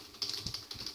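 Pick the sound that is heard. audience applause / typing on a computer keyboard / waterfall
typing on a computer keyboard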